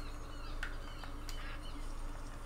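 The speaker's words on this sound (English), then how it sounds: "Oh, there's some ducks!" Ducks quack in a hunting video game, several short nasal calls rising over a steady low ambient hum, at moderate distance with no talking.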